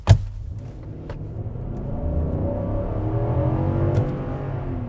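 A 2022 Infiniti QX80 with its engine accelerating hard under manual shifting gives a loud, steady rising rumble and whir from inside the cabin, with a thump at the start and a brief click near the end.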